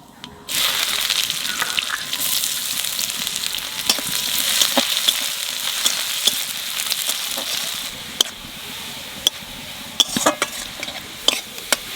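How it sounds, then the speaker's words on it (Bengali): Cumin seeds, bay leaf and onion hit hot oil and burst into a loud, continuous sizzle. Clinking stirs of a spoon against the pan follow, growing more sporadic toward the end. "তেলের উপর দিয়ে দেবো জিরে আর তেজপাতা, পেঁয়াজ"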